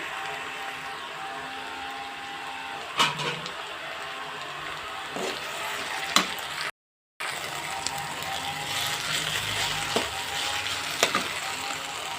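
Peanut and okra fry being stirred in a pan, a steady low sizzle with occasional scrapes of the spoon against the pan.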